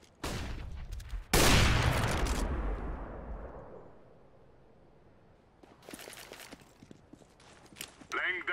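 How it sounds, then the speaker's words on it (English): A flashbang grenade bursts in the game CS:GO with a sudden loud bang that rings out and slowly fades over a couple of seconds, preceded by a short burst of gunfire and followed by scattered footsteps and clicks. "Flashbang."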